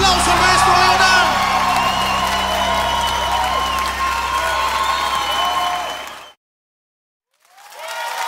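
A large concert audience applauds and cheers loudly for the singer, with whoops and shouts over dense clapping that stops abruptly, leaving a silent gap before the clapping swells again.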